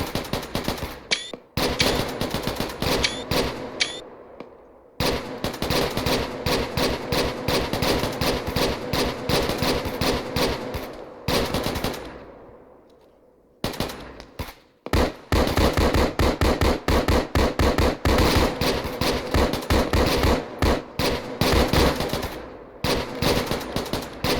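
Airsoft guns fire in rapid bursts during a squad skirmish, the loud close rattles broken by brief pauses and a long lull before the shooting resumes in dense volleys.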